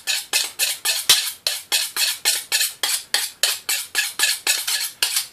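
A kitchen knife being sharpened, roughly twenty rhythmic scraping strokes of steel against a sharpener at an even, brisk pace, close and clear with no talking.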